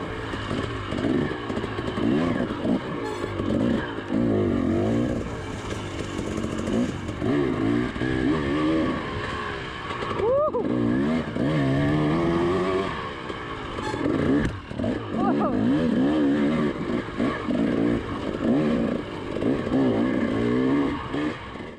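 Dirt bike ridden on a trail, its engine note rising and falling continuously as the rider works between third and fourth gear and feathers the clutch through corners, loud and close throughout with no talking.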